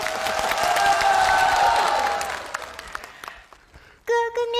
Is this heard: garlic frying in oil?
no